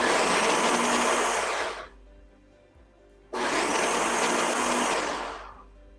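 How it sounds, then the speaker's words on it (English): A Ninja blender whirs loudly in two long bursts, cutting off for about a second and a half between them, then running again and trailing off toward the end. "That blender going."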